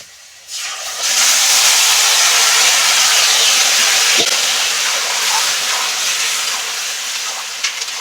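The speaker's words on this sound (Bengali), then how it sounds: "এখন আমি দিয়ে দিব কচু শাক সিদ্ধ করা কচু শাক" Boiled taro leaves go into a hot pan and set off a sudden loud, steady sizzle. The bright hiss rises within a second and holds at full strength, broken by a faint clink partway through.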